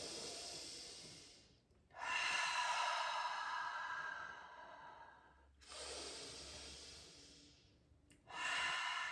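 Slow, deep breaths during a seated hand and wrist stretch, three long airy inhale-exhale cycles drawn close to the mic, each separated by a brief pause, with no talking.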